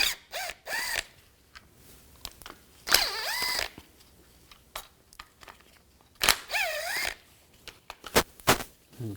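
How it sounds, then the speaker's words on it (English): An 8mm socket backs out three bolts holding the window motor to the regulator of a 2004-2008 Nissan Maxima rear power window: bursts of quick ratcheting clicks and short whirring, squeaky spins, close by and separated by quiet pauses. "Use an 8mm socket. Take these 3 bolts out."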